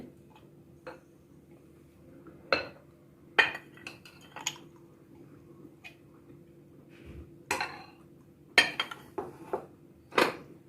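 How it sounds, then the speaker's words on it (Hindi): Ice cubes dropped into a glass for homemade mango squash, several separate clinks and rattles scattered across the clip, fairly close and crisp against a quiet background. "सबसे पहले मैं ग्लास में डालूंगी आइस क्यूब"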